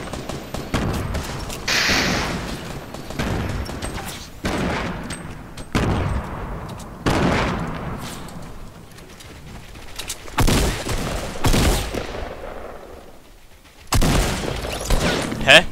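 Fortnite gunfire crackles in bursts of rapid shots and booms, separated by brief lulls, loud and close.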